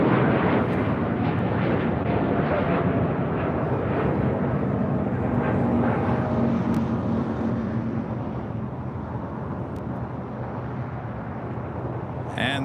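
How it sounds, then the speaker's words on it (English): A Korean Air Airbus A380 taxiing toward the gates at LAX, a broad, loud, continuous jet engine rumble and roar that eases slightly toward the end, heard from nearby on the airfield. "the Korean Air Flight 11 A380 Super now making its way to the gates here on the south side"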